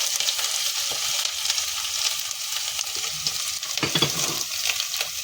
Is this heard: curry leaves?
yes